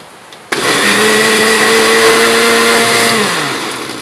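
A blender switches on abruptly and whirs loudly and steadily, its motor pitch easing slightly as it winds down near the end, while preparing stir-fried bitter gourd with shrimp.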